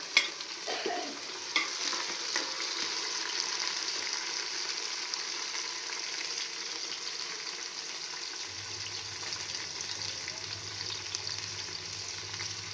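Tomatoes and green chillies added to fried onions in a pan, sizzling steadily, with stirring scrapes early and a constant frying hiss throughout, close and moderately loud.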